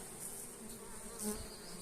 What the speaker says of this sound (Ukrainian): карпатські бджоли